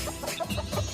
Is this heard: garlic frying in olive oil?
no